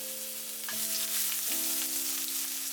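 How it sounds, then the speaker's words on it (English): Ginger dropped into hot oil in a wok over high heat for a beef and Chinese cabbage stir-fry, a steady close sizzle with faint stirring and no talk. "When the oil is hot, put the ginger"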